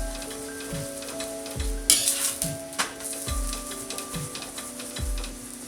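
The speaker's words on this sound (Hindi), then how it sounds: "अब हम इसमें 1 टीस्पून ऑयल डालेंगे और पलटे की हेल्प से इसको पलट देंगे।" Bathua paratha sizzles steadily in oil on a hot griddle, with repeated soft thumps and scrapes as a spatula presses and flips it, close and clear.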